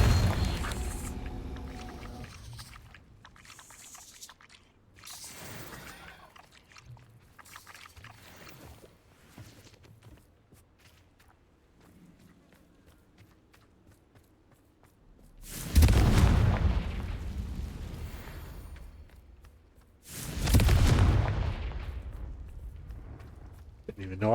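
Spell explosions from the Confringo spell in Hogwarts Legacy, with two heavy booming blasts in the latter half and lighter combat rumbles earlier. A voice talks over parts of the gameplay.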